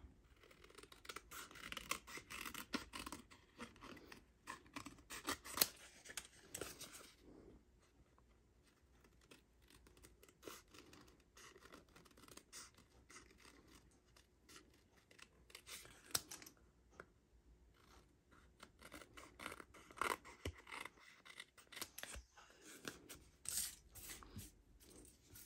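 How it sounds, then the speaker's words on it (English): Scissors cut around the edge of a paper card in a faint, close series of snips and paper rustles that continue for most of the stretch, with a quieter pause midway and no talk. "now you're gonna get your scissors and just go around the edge to cut this whole thing out."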